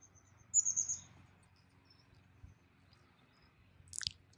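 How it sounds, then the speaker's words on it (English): Outdoors at a rural property with level pastures, a bird gives a short high chirping phrase, then another brief call a few seconds later, over a faint steady insect hum and quiet low rumble. "you will hear the birds."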